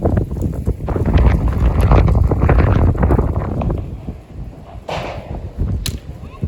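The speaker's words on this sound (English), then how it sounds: "ooh, that's windy" Strong gusts of wind buffet the microphone with a loud, roaring low rumble that surges and eases throughout.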